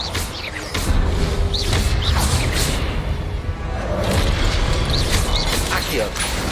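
Spell effects from Hogwarts Legacy, including Confringo explosions, sound as repeated whooshing bursts and booming pops in quick succession over a dense, loud battle bed, with a voice calling out spell names.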